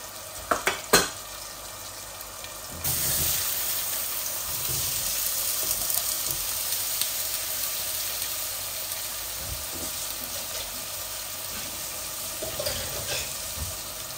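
Diced potatoes fry in a pan with a steady, moderate crackle. A few sharp utensil knocks open the sizzle, which then runs continuously without talk.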